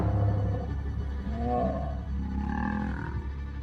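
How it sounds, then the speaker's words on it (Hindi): Male lions roar during a fight in the wild, the deep growling roars loud and close and continuing without a break. "दूसरे शेर पर हमला करते वक्त किंकी टेल भी दहाड़ रहा था।"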